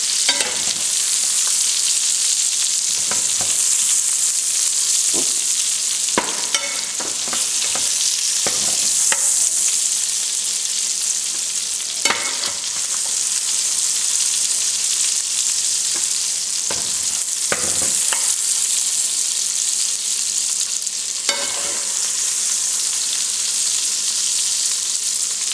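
Sausage browning in a pan for jambalaya, giving a bright continuous hiss and spatter held close and loud for nearly half a minute, with occasional clicks and scrapes of stirring, no voices.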